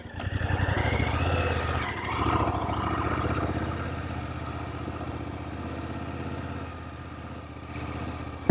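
A 2019 BMW F750GS twin-cylinder motorcycle runs steadily nearby, its low, even engine note holding throughout with slight dips as the throttle eases.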